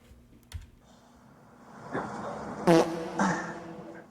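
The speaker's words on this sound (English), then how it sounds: "Pardon my flatulence." A man passing gas, preceded by a small knock and faint rustle, then a loud, buzzy, sputtering burst with a second shorter rasp after it, close to the microphone with no speech.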